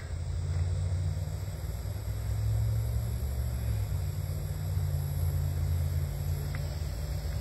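A boat motor is thrown into reverse, giving a steady low rumbling drone with a constant hiss and no clear change in loudness.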